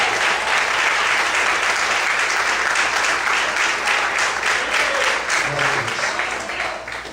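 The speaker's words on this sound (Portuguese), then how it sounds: "Mais aplausos ao Senhor." A church congregation applauds together in sustained, dense clapping that holds steady for several seconds before tapering slightly at the end, with faint voices underneath.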